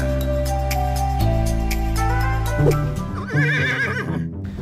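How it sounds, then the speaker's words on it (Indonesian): A Sandalwood horse at the presidential palace gives a long, loud, close neigh that rises into a wavering whinny, with a few hoof clops and no talk. "Saya sekarang dengan kuda yang kita punyai. Kita punya 2 kuda di istana. Ini kuda sandalwood, kuda sandalwood."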